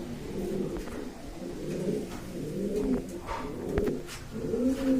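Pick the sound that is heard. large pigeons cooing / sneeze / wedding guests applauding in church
large pigeons cooing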